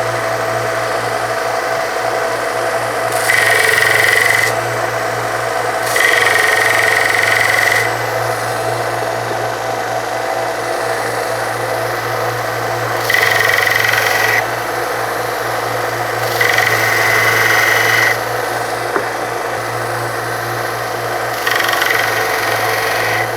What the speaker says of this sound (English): I'm going to try and flatten the back using this against the metal plate here.